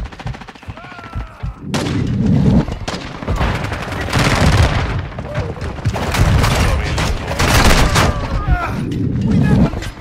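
Rapid, loud bursts of gunfire and booms in the Call of Duty: Modern Warfare II video game, with nearly continuous shooting and a brief lull near the start, mixed with in-game voice chatter.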